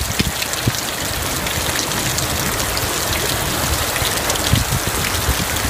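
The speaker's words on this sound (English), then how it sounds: "you can hear the sound of some hail. That's right, hail falling in Cave Creek." Hail and heavy precipitation during a storm in Cave Creek, Arizona, a loud continuous rush of pelting with scattered sharper impacts, close and unbroken, no speech.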